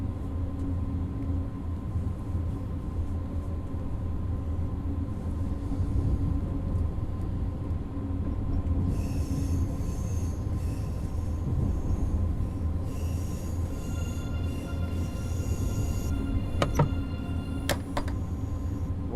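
An ICE train in Train Sim World 2 rolls into Aachen with a steady low rumble and hum, later joined by higher tonal whines and brief squeals from the wheels and brakes, with no voices.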